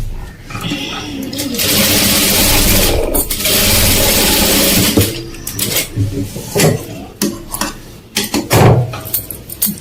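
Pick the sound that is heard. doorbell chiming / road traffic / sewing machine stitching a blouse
sewing machine stitching a blouse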